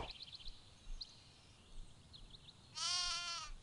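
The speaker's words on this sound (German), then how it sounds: "Noch ein Schaf." Sheep bleating in the god game Black & White: one loud, wavering, nasal bleat toward the end, preceded by faint, distant chirpy calls over a quiet ambient bed.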